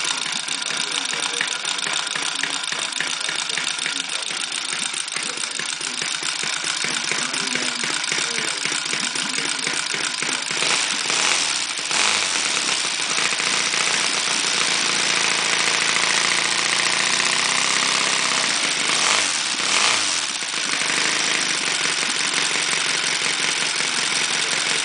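A Saito 300 twin model aircraft engine fitted with C&H ignition is warm-started and settles into a steady, loud idle near 800 RPM, running continuously throughout with brief throttle changes around the middle and late stretches.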